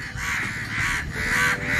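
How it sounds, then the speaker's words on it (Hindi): Crows caw loudly in three harsh, evenly spaced calls, close by and clear over faint background noise. "अभी हम नहीं बचाते इसको तो देख सकते इतने सारे देखिए कौवे वगैरह जो है आ गए हैं।"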